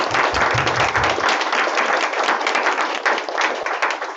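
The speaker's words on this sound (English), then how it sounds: "Maybe we can give everyone a huge round of applause." Audience applause for the panelists at a tech hiring info session on public sector design, a dense, steady round of clapping that fills the clip without letting up.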